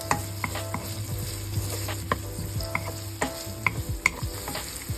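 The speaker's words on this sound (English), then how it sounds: "we heat oil in a pan and then we saute the onion" Onion and garlic sauteing in hot oil in a pan, a steady close sizzle broken by irregular scraping and stirring knocks, with no talk.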